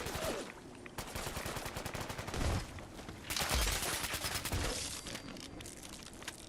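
Rapid bursts of automatic gunfire from a Fallout 4 firefight, dense rattling volleys with a few heavier booming shots, loud and continuous with no talk.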